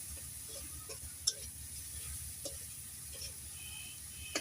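Ground cumin, mustard, onion and garlic paste sizzles in a pan while a pangas fish bhuna cooks: a steady, moderate hiss with a few soft clicks from stirring, and no voices.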